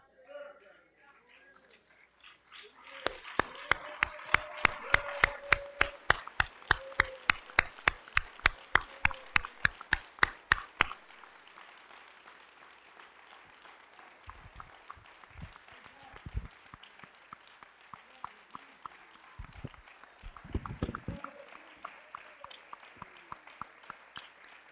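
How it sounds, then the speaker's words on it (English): A funeral congregation at a homegoing service stands and gives a hallelujah clap: loud, rhythmic unison claps in a steady beat for several seconds, then scattered clapping and murmuring voices that continue under occasional low thumps. "I want us to stand and give my mother a hallelujah clap."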